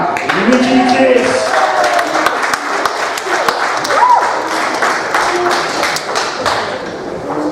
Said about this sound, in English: Big round of applause from the Electric Councillor, Nikki Kiss